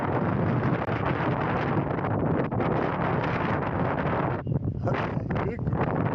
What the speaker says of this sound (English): The wind is really, really blowing.